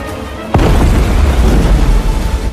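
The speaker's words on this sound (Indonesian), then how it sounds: "langsung memerintahkan Tuan Lopez untuk menembakkan bom air ke area itu" Depth charges fired from a warship detonate in a film scene: one sudden heavy boom strikes after a brief quiet moment, then a loud, low rumbling roar that churns on and slowly fades.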